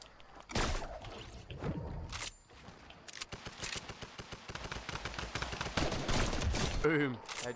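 Sniper rifle shots and rapid gunfire in a PS4 bot team match go off almost continuously, with loud cracks and dense bursts layered over game noise and some voices.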